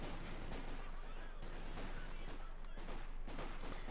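Dense, continuous rifle fire crackles through a Company of Heroes 2 battle, shots overlapping in a steady clattering barrage with heavier thuds mixed in, no voices over it.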